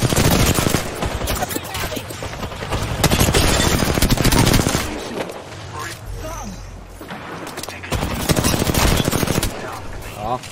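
Rapid automatic gunfire in the video game Apex Legends, loud bursts of machine-gun fire coming in waves with brief lulls, while players talk over the shooting.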